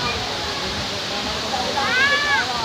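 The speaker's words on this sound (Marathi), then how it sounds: "वाहते तो पाण्याचा धबधबा आहे" The Kapildhara waterfall roars as a loud, steady, close rush of falling water, with people's voices and chatter rising over it.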